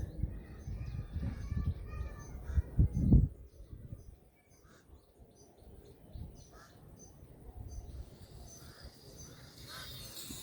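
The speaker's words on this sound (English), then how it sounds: "you hear the birds singing." Birds call outdoors at sunrise, including harsh caws and scattered chirps, over low rumbling background noise, some calls near and others farther off.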